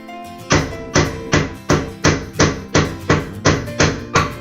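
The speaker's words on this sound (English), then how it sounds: "The camera shaking is from the hammer hitting." A hammer strikes a plastic model V-8 engine part resting on a desk, giving ten evenly spaced sharp knocks about half a second apart, each loud and close with a short ringing decay.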